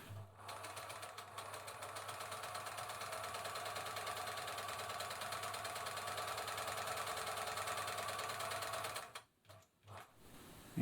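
Singer 700 series sewing machine stitching with the tension set tight at 7, a steady close mechanical whir with rapid rhythmic needle clatter for about nine seconds, then it stops with a few brief knocks.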